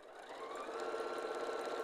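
A sewing machine stitches through layers of foam, SF101 interfacing, tape and fabric, giving a fast, steady mechanical whir that starts softly and quickly settles into a constant close hum.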